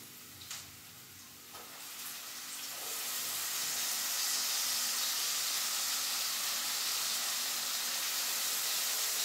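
Chicken fries in a pan as spices are added, giving a steady sizzle that swells into a loud, continuous hiss after a few soft knocks at the start.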